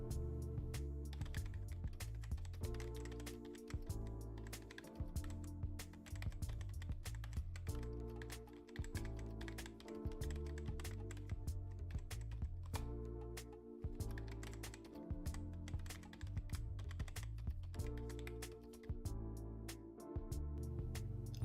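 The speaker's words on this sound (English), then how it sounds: "Let me speed things up while I type in some sample information." Steady typing on a computer keyboard while sample data is entered into an Excel report, with quick, even key clicks and regular short pauses throughout, close and clear with no voices.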